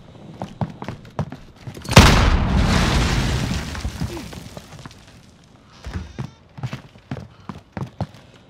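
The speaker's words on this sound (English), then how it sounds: "Frag going out." A frag grenade bursts in Call of Duty: Modern Warfare, one loud boom that rumbles and decays over a few seconds, followed by scattered in-game thumps and footsteps.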